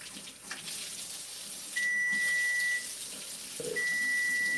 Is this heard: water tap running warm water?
yes